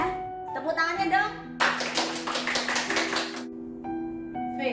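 An audience at a Catholic junior high school talk show gives a short, fairly close round of clapping lasting about two seconds, with speaking voices before and after.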